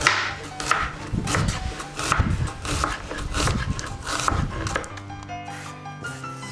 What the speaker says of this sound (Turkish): Soğanımızı yarım daire şeklinde doğruyoruz.